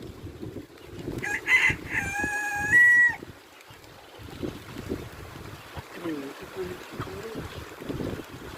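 Chickens on a small Saudi farm as rain approaches, with a loud rooster crow early on, then scattered clucks and a person talking over the flock.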